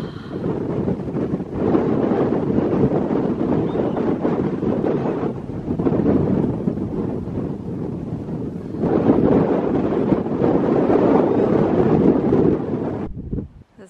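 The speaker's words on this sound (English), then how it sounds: "it's getting really windy" Strong wind buffets the microphone in long roaring gusts at a beach, easing briefly midway before surging again, with faint surf beneath and no talking.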